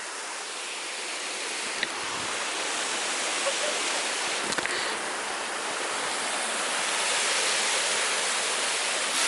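A loud, continuous waterfall roars up close with a steady broadband rush that barely changes, and no voices can be heard over it.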